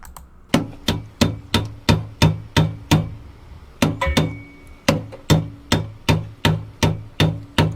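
Hammer striking a metal bracket to bend it during a blower scoop fitting on a fourth-generation car, about fifteen sharp, ringing close blows in a steady rhythm with a brief pause midway.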